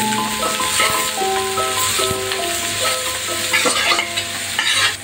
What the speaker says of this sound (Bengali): তেল গরম হলে পেঁয়াজ কুচি, মরিচ কুচি দিয়ে একটু লাড়া দিব চামচ দিয়ে